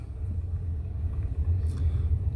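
A truck drives over a bumpy stretch of road, a steady low cabin rumble with small jolts and knocks from the rough surface.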